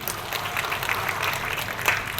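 A church congregation claps together in sustained, steady applause, a dense spread of many hands filling the room at moderate distance for a couple of seconds.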